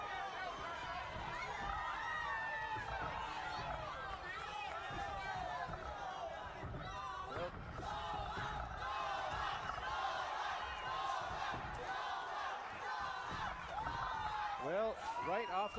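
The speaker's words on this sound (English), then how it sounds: "listening to the crowd here, I can kind of hear that" A large boxing-night crowd in Las Cruces, New Mexico, keeps up a loud, continuous roar of shouts, chatter and cheering, with individual voices rising and falling throughout.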